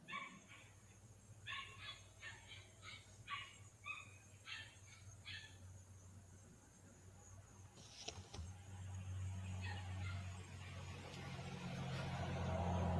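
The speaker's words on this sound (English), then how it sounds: "That's the red truck, or a red truck." A red truck approaches and passes, a low engine rumble that grows steadily louder through the second half. A run of dog barks comes first, over quiet outdoor background.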